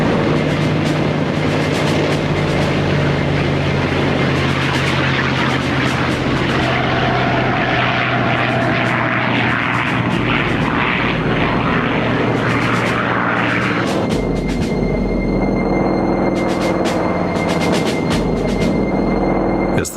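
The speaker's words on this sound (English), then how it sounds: "the first wave of Japanese aircraft took off" Japanese World War II aircraft take off for an attack, a loud, steady propeller and engine roar that holds throughout with no talk, swelling and shifting in pitch as the planes build power.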